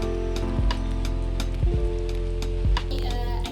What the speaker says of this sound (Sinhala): ලයිබ්‍රරි එකෙන් එළියට එද්දිත් එළියේ තවම හොඳටම වැස්ස